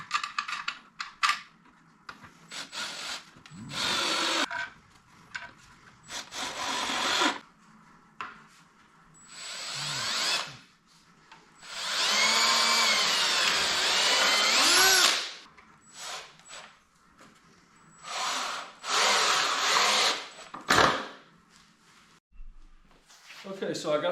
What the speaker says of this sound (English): I'm going to put a couple of screws in the top just to hold everything together solid